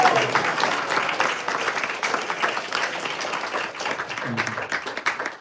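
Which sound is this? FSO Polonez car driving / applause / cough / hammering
applause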